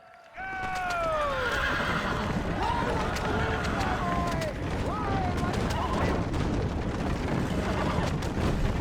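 Horses in the Red Dead Redemption video game whinny and neigh repeatedly over a steady, loud rumble of galloping hooves during a race, with several calls overlapping throughout.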